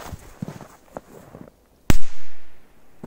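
A single firecracker bursts with a sharp, loud bang after a few quiet rustles and steps, its crack ringing off briefly into a decaying tail.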